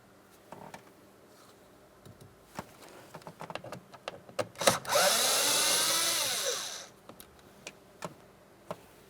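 Power driver with a T20 bit backing out trim panel bolts on a 2008–2016 Chrysler Town & Country sliding door, a sustained whirring spin of about two seconds amid scattered clicks and handling taps.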